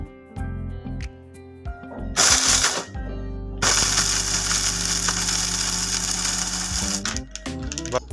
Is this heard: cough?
no